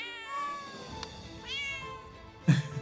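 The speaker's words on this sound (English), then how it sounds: "Kitty cat." A cat in the fantasy game The Magister meows several times, close and clear, with drawn-out tonal cries and a sharper yowl near the end.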